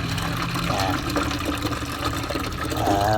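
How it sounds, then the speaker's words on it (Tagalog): Water pours steadily into a container, a continuous gushing splash that fills the whole stretch with no talking. "Lagyan natin ng tubig."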